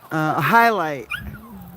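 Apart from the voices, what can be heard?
dog whimpering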